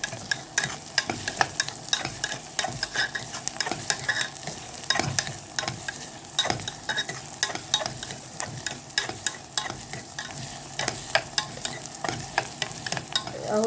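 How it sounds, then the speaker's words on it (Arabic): A spoon stirs and scrapes through shakshuka of tomatoes and eggs sizzling in a frying pan. Irregular clinks and scrapes repeat over a continuous frying hiss, close and clear with no talking. "شايفين انا بنقلبه كده"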